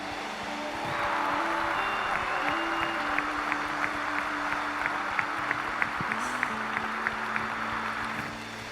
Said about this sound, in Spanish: Si vas a aplaudir al Rey, dale fuerte, fuerte